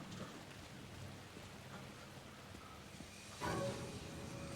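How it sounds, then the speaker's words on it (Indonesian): Steady rain falling on trees in the video game Alan Wake 2, a constant dense hiss with a louder gust-like swell near the end and no talking. "animasinya hujan di pohon"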